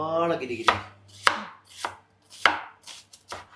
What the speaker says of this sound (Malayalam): സവാള നമുക്ക് അരിയാം.